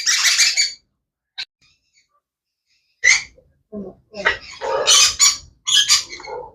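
Baby Amazon parrots and conures at a bird seller's give sharp, loud squawks and harsh calls in bursts, one at the start, then a rapid cluster of calls near the end, separated by silence.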